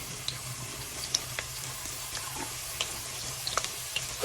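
Onions and green chilies frying in hot oil for a pangas fish curry, a steady soft sizzle with scattered faint pops and clinks, no voices.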